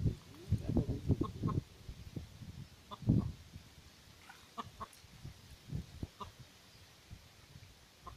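A fighting rooster crows and clucks in short bursts, fairly close, with scattered farmyard noise and a few rustles between calls.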